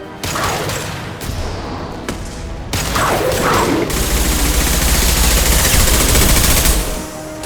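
Loud, dense weapon fire from an impact shot in the Mass Effect Legendary Edition game, sustained bursts and booming blasts running almost continuously, close and alone with no talk.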